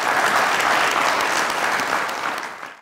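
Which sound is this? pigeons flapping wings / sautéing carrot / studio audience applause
studio audience applause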